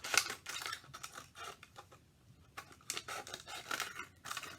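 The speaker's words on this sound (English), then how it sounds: "I'm going to cut down the length of the long half" Scissors snip through recycled material for a flower sculpture, a series of quick, close crisp cuts in uneven bursts with a short quiet pause midway.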